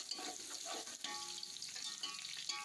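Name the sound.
chopped garlic frying with onions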